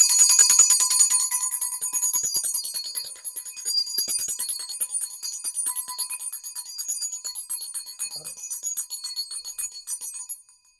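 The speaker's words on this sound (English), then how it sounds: "now we're going to bring the bell, my mom's bell" Bright, high metallic strokes from an heirloom hand bell, rung rapidly and repeatedly for about ten seconds, close and clear with a shimmering ring between strikes, no talking.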